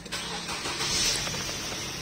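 A 2009 Nissan Teana 2.0 with an automatic gearbox revs up from idle. The engine gives a short, close surge that swells and holds a raised, steady roar for about two seconds.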